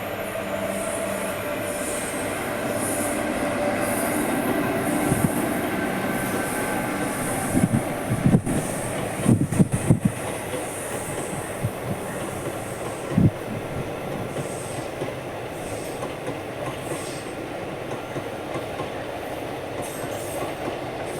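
A train passing by near Uthralikavu: a long, steady rail rumble with wheel squeals and clattering clicks building in the middle, then fading to a continuous roll, with no voices.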